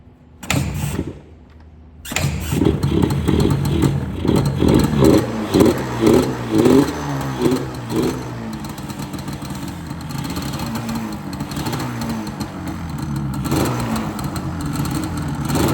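A stock-exhaust 1996 Yamaha Banshee ATV engine is kick-started, catching after a brief pause, then blips through a series of sharp, close revs before settling into a rough, burbling idle.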